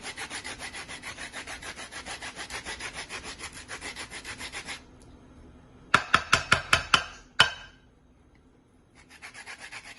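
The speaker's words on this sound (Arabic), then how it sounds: "غنحكوها الجليده ديالها باش تعطينا ديك النسمه" Rapid, rhythmic rasping strokes of skin being scraped off an eggplant, pausing for a moment, then a few sharp taps before the steady scraping resumes.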